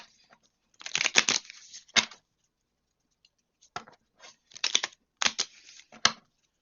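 Crisp shuffling of oracle cards in several short bursts of riffling and flicking, close up, separated by brief silences, with no voices.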